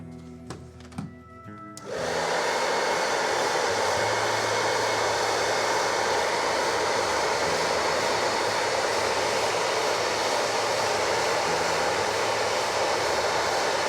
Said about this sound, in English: gonna blast it again with the blow dryer